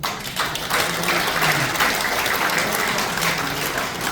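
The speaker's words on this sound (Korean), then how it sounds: "서로가 박수 한번 치시죠." An indoor audience at a political rally in a press club hall claps together, dense sustained applause filling the room for several seconds, without speech.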